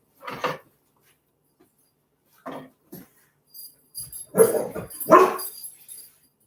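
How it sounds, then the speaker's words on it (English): A puppy barks in short high yips, a few scattered at first, then a quick cluster of louder barks near the end, close by. "Sorry for all the puppy noise."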